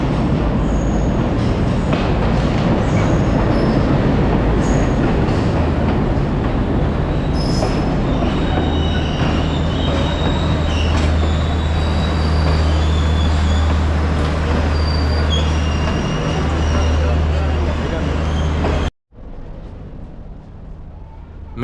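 Trinco Night Express train arriving at a station, a loud, continuous rumble of heavy rail cars with squealing wheels running for most of the stretch before cutting off abruptly near the end.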